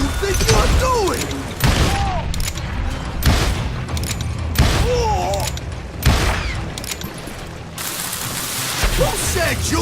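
Dynamite explosions in Call of Juarez: Gunslinger, several heavy booming blasts at irregular intervals, close and loud, mixed with voices and scattered gunfire-like crackle.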